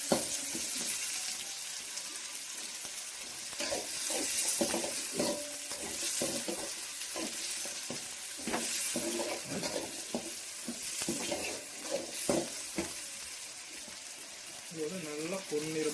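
Tomatoes sauté in oil for a Hogenakkal-style fish gravy, a continuous close sizzle broken by repeated scraping stirs, with a voice talking over part of it.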